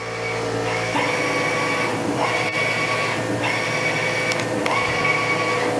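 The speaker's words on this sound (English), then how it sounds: "So it's basically just like a giant computer printer." A DTG (direct-to-garment) printer prints a design onto a shirt, its print head carriage whirring in repeated passes with rising and falling motor tones and mechanical clicks, loud and close with no talking.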